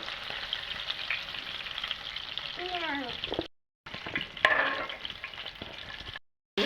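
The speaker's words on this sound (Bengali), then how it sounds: "বন্ধুরা দেখুন আমি এগুলি সুন্দরকে বেজে নিচ্ছি" Fish bones fry in a pan with a steady, close sizzle and crackle, broken by brief silent gaps. A voice speaks briefly over the frying.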